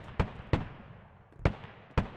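Explosions as a HAB is destroyed in the online shooter Squad, four sharp booming blasts spaced unevenly over two seconds, moderately loud with rumbling tails.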